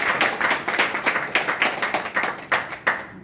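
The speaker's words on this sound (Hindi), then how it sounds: "अविनाश सर के लिए जोरदार तालियां।" An audience at a testimonial meeting claps loudly for Avinash sir, a ragged burst of strong individual claps with uneven rhythmic peaks, close and vigorous, fading at the end.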